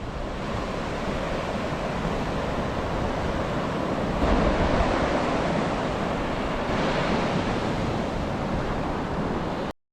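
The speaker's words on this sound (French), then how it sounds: "on écoute le son des vagues et c'est superbe" Loud, continuous wash of sea waves, a broad roar that swells slightly midway, with no voices.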